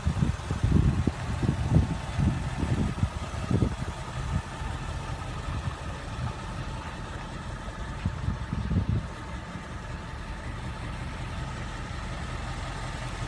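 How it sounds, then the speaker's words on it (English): A modern American muscle car engine idles steadily nearby, a low rumbling drone with a few throaty pulses early on before settling into an even hum. "Very impressive engine."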